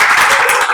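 Short burst of congregational applause in a church service, dense and steady clapping from many hands filling the room, with faint voices mixed underneath.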